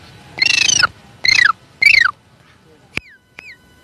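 A male mimicry performer imitates a house sparrow's chirping: three buzzy, close, loud chirp bursts in quick succession, followed by two short, sharp whistled peeps, with no other talk.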